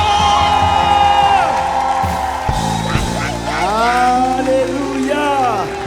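A church congregation loudly cheers and acclaims the Lord, a swelling mass of shouts and whoops from many voices that rises and falls, with a voice calling out over it.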